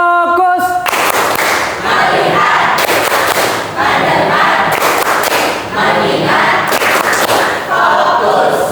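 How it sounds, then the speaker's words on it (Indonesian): A classroom of students claps in counted groups led by a teacher, with loud bursts of clapping separated by brief pauses in a repeating one-to-five rhythm, and voices and chatter mixed throughout. "Tepuk 1, tepuk 2, tepuk 3, tepuk 4, tepuk 5"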